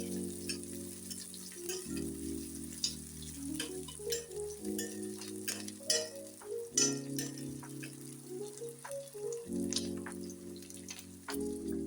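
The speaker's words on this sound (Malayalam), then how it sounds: "ഇനി ഇതിലേക്ക് നമുക്ക് പച്ചമുളക് ഇട്ട് കൊടുക്കാം." Green chillies frying in a pan of oil while making chilli potato, a steady crackling sizzle with scattered pops and ticks, close and continuous, with low music-like tones running underneath.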